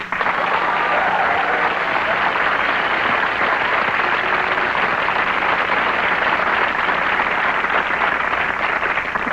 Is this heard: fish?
no